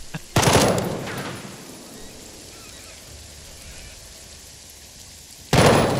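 Gunfire in Jagged Alliance 3, a loud sustained burst at the start that tails into a dull rumble, then another sharp burst at the end.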